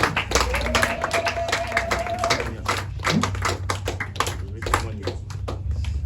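A church congregation breaks into sustained applause and scattered cheers for a pastor's testimony, a dense steady patter of many hands clapping, with voices rising among it.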